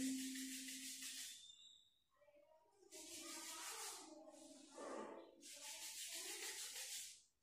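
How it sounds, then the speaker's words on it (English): Palms rubbing together briskly during a pranayama breathing practice, a soft, steady dry friction in three or four sustained bursts with brief pauses between. "Rub your palms."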